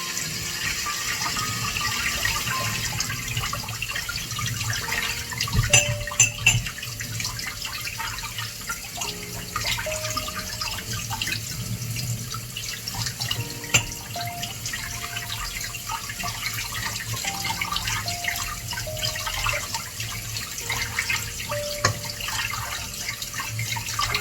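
Water running from a tap while medium poha (flattened rice) is washed, a steady close rush of flowing water lasting throughout, with small splashes and no talk.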